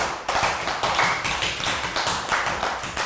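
Children in a Year 3 health education class applaud together, a dense burst of quick, close clapping that rises and falls in waves before tapering off.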